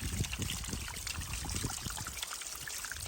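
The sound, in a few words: spring water trickling from rock through a filter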